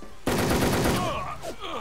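Rapid automatic gunfire in the online shooter Wolfteam, a loud close burst of quick repeated shots that starts abruptly and trails off into game sounds, with a voice faintly beneath.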